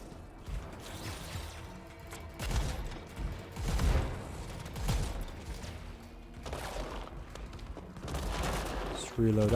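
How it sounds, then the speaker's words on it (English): Rapid gunfire bursts from the online action shooter Anthem, with shotgun blasts and weapon mechanics popping in uneven volleys throughout, fairly loud and mixed with game effects while a player talks over the action. "Can you stop firing at me down there?"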